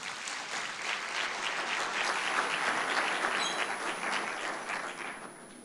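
An audience at a regional policy conference opening gives a steady round of applause, dense, even clapping throughout with a faint tonal whine in the background.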